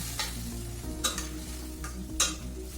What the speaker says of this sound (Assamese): অকণমান সময় ভাজি লওঁ